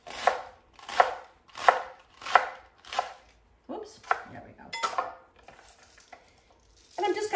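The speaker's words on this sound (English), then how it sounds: "I'm just gonna get these greens kind of chopped up and they're gonna go in" Salad greens and lettuce chopped with a knife on a board: five or six evenly spaced, crisp thuds, then looser, irregular cuts and rustling, close and clear with no speech.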